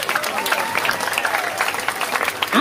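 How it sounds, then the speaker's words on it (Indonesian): A crowd applauds a performer with brisk, close clapping throughout a short burst, with a few voices rising underneath. "luar biasa tepuk tangan untuk penabodro ini"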